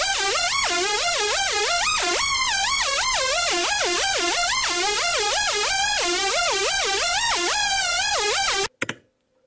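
A speedcore synth lead plays a fast, bright melody with gliding portamento notes, loud and continuous for about nine seconds before cutting off abruptly into a brief clatter.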